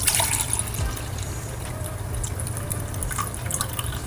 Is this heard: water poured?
yes